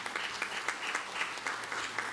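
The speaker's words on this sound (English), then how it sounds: "Let's give them a round of applause" Steady applause from a church congregation thanking the choir at a Sunday service, sustained clapping throughout with no voices.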